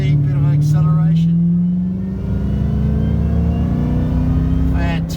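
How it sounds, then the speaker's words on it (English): Ford FG XR8 fitted with a StreetFighter SF800R setup accelerating from about 60, a steady low engine drone rising gradually in pitch inside the cabin, with a person talking over it. "So just down to 60, bit of acceleration."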